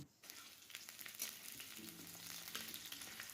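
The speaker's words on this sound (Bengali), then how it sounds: "এবার আমি আলুগুলো সুন্দর করে তেলে ভেজে নেব" Potatoes frying in hot oil in a wok, a steady close sizzle and crackle running throughout with occasional stirring scrapes.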